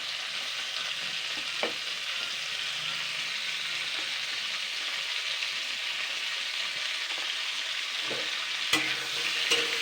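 Carrot, tomato and beans stirred in a hot pan, a continuous gentle sizzle with occasional scrapes of the spoon against the pan, close by and with no talking.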